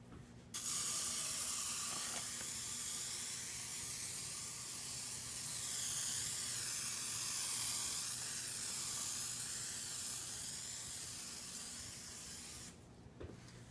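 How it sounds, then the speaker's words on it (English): A steady, soft hiss of grapeseed oil sprayed onto kale runs for several seconds, fairly faint and close, with brief quiet before and after. "now I'm just going to give a light spray of the grapeseed oil."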